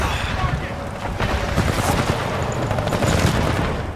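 Gunfire from the Titanfall 2 video game keeps up for several seconds as a dense run of rapid shots and booms, loud and close, without a break.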